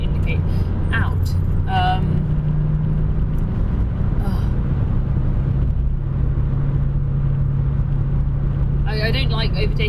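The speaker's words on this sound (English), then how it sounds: "there's a lorry doing an overtaking manoeuvre, and we're now all slowing down to 50 miles an hour in the outside lane" Steady motorway traffic roar as a lorry overtakes in the outside lane, a continuous heavy rumble heard from inside a moving car, with talk over it.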